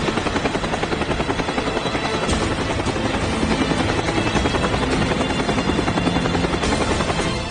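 A helicopter's rotor chops steadily and loudly throughout, a dense continuous roar with a fast rhythmic beat.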